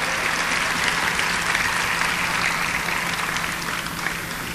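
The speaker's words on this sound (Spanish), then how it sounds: "Un aplauso, por favor." Dense applause from a crowd fills the space continuously, steady and fairly loud, with no pauses.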